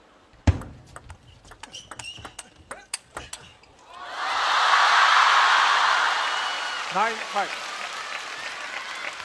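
Crowd breaks into sustained, loud applause at a professional table tennis match in Chongqing, swelling after a few sharp ball and paddle ticks, then tapering slowly as voices drift over it.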